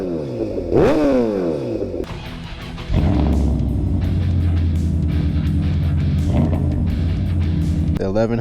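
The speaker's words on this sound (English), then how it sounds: "Give you guys a couple revs here." Chevrolet Silverado pickup engine revved in a few quick bursts, each rising sharply then settling into a deep, loud idle close by, with someone talking between the revs.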